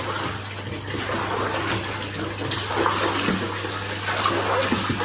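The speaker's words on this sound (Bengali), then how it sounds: "আমি পানিগুলো মিক্স করে নিই।" Bath water swirls and splashes steadily in a tub as hot and cold water are mixed, with a bubble bath bomb turning it blue; a continuous close wash of water with no voices.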